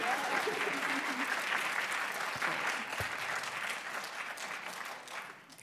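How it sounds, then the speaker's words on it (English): A room full of people at a venture competition finale applauding the finalists steadily, the clapping dense and sustained before gradually tapering off. "can we have a round of applause for all our finalists?"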